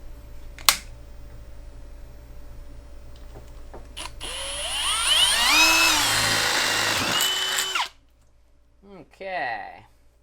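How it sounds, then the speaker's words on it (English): A power drill whines up to speed and holds a steady high-pitched grind for a few seconds drilling a pilot hole, then stops, with a sharp click before and squeaks after. "We're just going to drill our mark out. This is going to be the pilot hole for the punch."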